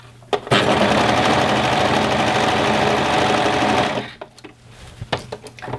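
An overlocker sews elastic onto bikini fabric in one steady, loud run of rapid mechanical stitching lasting several seconds, then stops, leaving quiet handling clicks and faint movement.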